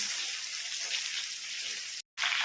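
Chicken pieces hitting hot oil with fried garlic and ginger in a pan, a loud bright sizzle that runs steadily, cuts out briefly, then resumes strongly.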